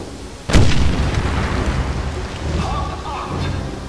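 A sudden loud blast tears open a locked door in the Wolfenstein game, followed by a long rumbling, crackling debris wash that slowly fades.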